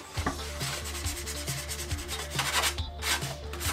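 Hand sanding of a New Bright 1/10 scale hard body for a 2021 Ford Bronco RC truck with 220 grit sandpaper, a steady close scratchy rubbing with repeated back-and-forth strokes, alone without talk.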